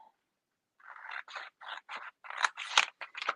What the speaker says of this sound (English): Sometimes I find it easier to actually fold and then do the cut because I can see the line a little bit better.